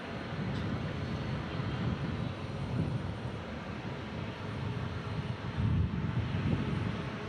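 An airplane at Omaha Eppley Field airport rumbles as a steady, loud broadband roar that holds for several seconds with a slight swell near the end, no voices present.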